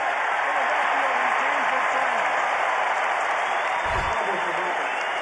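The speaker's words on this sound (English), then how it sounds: "The crowd just cheered very loud" Loud, steady roar of a baseball stadium crowd cheering on Opening Day, A's versus Phillies, a dense wash of voices sustained throughout, with faint talk and a brief low thump near the end.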